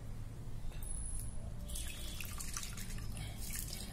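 Saligrama stone and rudraksha beads rinsed with water for a Shiva puja, a steady trickle and drip of water splashing close by with no voices.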